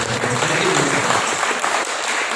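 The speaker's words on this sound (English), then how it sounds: "they really deserve a very big applause for that" Audience applause at a Bengaluru college alumni meet, a steady dense wash of many hands clapping at once, fairly loud and continuous throughout with faint voices underneath.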